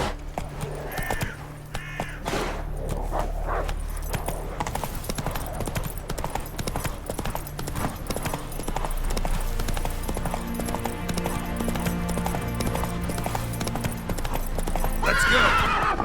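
A horse gallops in The Witcher 3: Wild Hunt, with rapid, continuous hoofbeat clip-clops and occasional whinnies over game ambience. The pace stays steady and close throughout.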